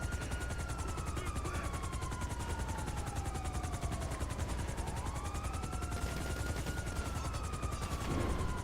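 A helicopter in GTA V Online drones steadily and loudly throughout, a constant rotor wash with rising and falling engine whine, with no talk.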